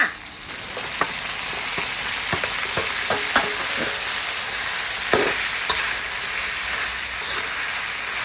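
Chinese kale stir-fried with fermented pork (naem) in soy sauce, sugar and oyster sauce: a loud, close, crackling sizzle punctuated by sharp spatula clicks against the pan.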